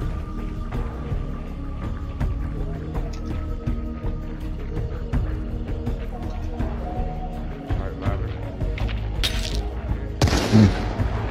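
Shotgun fire in the game The Hunt, scattered gunshots against a rumbling, busy background, with a loud blast near the end and a voice speaking briefly.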